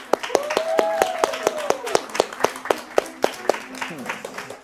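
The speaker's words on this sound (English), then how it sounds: "A big round of applause for Jovi, everybody." Sharp, spaced claps from a small student studio show audience, growing into scattered applause, with a voice talking over the start.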